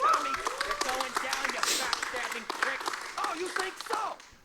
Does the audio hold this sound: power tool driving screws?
no